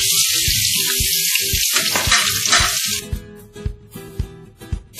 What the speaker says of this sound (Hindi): सबसे पहले एक कढ़ाई में हम करीब 100 ग्राम घी या कुकिंग ऑयल हल्का सा गर्म करेंगे। इसमें प्याज शामिल करेंगे।